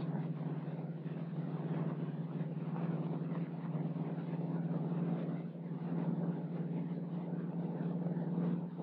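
A steady droning engine hum from a propeller aircraft in flight, continuous and even, with a constant low tone and no voices.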